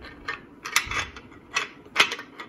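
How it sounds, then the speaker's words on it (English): Metallic sliding clicks and clacks of a Winchester Model 12 shotgun bolt being angled and fed into the receiver, several short close mechanical knocks spaced across a couple of seconds with no talking. "I'm gonna start with the bolt. And so we're gonna feed it in this way first."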